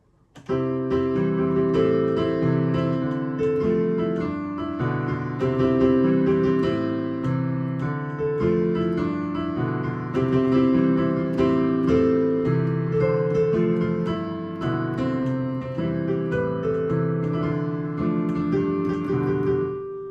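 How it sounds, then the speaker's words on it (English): A piano plays the full passage, a bouncy left-hand bass under a right-hand melody that closes on a final phrase. It is steady, close and continuous for about twenty seconds, with no talking. "so that entire thing together will sound like this"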